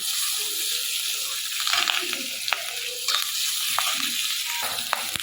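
Fish fat frying in a pan for bitter gourd chorchori gives a steady soft sizzle with light stirring clinks and scrapes, close and continuous throughout.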